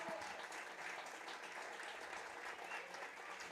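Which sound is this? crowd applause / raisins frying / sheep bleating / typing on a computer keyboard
crowd applause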